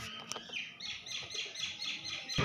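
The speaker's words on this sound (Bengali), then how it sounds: "পাখির আওয়াজ শোনা যাচ্ছে।" Small birds chirp and tweet in quick repeated calls across clean, quiet temple grounds at Karnagarh, the notes close and clear against a soft background, with a brief knock at the end.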